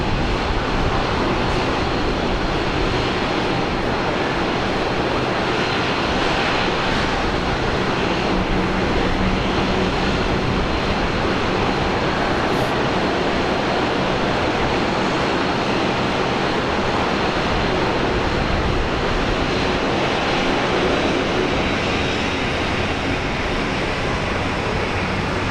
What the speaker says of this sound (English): let's say bye-bye to China Southern A350